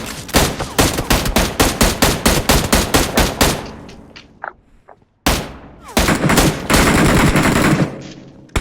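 Gunfire in a competitive shooting video game scrim rings out as rapid automatic bursts of sharp close shots, a short pause, then another dense stretch of firing.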